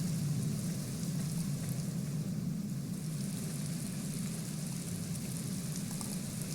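Steady rain pours in a dark Gothic adventure game scene, a dense even hiss that fills the whole stretch without change, heard alone with no voices.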